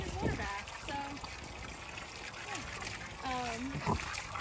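Farm hog splashing in a muddy water bath, with intermittent trickles and splatters close by while a person talks over it.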